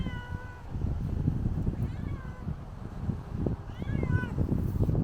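A cat meows a few times outdoors at Edgewater Park in the Bronx, drawn-out rising and falling cries over heavy low rumbling background noise.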